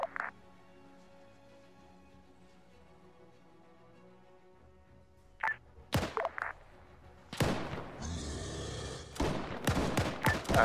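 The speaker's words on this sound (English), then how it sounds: "hearing gunfire in our ring" Gunfire during a Halloween night operation: a few faint cracks, then clustered loud bursts of rapid shots echoing in the open, with quiet stretches between.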